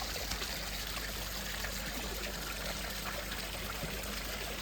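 A garden pond filter system sends a steady, continuous trickle of water through it, a constant gentle flow close by with no voices.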